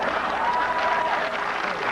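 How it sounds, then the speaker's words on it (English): A studio audience at a comedy panel show breaks into steady, full applause with some cheering, filling the room evenly throughout. "I try not to encourage applause between each segment"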